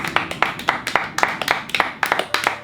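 A small group claps for a couple of seconds, uneven and close, with sharp separate hand claps rather than a full crowd.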